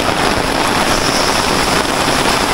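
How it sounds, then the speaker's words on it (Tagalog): Heavy rain pours down during a typhoon at a wedding outing, a dense, steady roar that fills the whole clip without letting up, with no voices. "Wala pa rin humpay ang ulan. Parang binubuhos."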